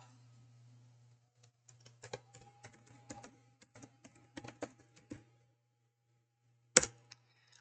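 Keystrokes on a computer keyboard tap out in irregular bursts, with a louder clack near the end like an Enter key, faint and close over a steady low electrical hum.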